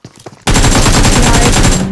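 DBS shotgun fire in BGMI, the battle royale game: after a quiet start, loud continuous gunfire bursts in and keeps going, dense rapid shots filling the rest of the moment.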